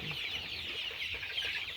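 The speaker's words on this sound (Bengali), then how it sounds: "দেখতে পাচ্ছেন আমার মুরগিগুলো খুবই চঞ্চল প্রকৃতির" Farm chickens cluck and murmur in a restless flock, a soft continuous chatter of overlapping calls over a brief stretch, with no voices.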